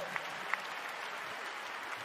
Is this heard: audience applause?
yes